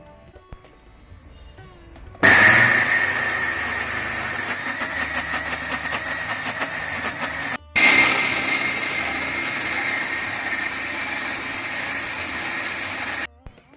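A mixer grinder whirs loudly grinding soaked rice and coconut batter for dosa, running in two long bursts separated by a brief stop, with no talk over it.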